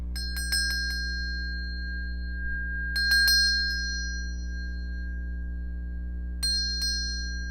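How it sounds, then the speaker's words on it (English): A small bell is rung in three bright clusters of quick, ringing strikes over a steady low hum, each cluster fading before the next, no voices. "Just ring the bell."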